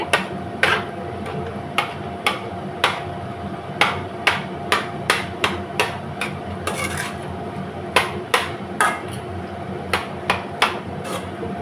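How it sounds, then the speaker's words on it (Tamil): A ladle repeatedly knocks and breaks up large pieces of blood stir-fry in a metal pan, giving sharp regular clacks about once a second over a low background hiss. "கொஞ்சம் பெரிய பெரிய துண்டை இருக்குது அப்படின்னா இந்த மாதிரி வச்சு கரண்டிலேயே இந்த மாதிரி உடச்சி விட்டுறலாங்க"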